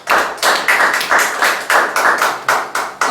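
A church congregation claps in a steady rhythm for the Lord, about a dozen sharp, evenly spaced claps close and full, with no talking over them.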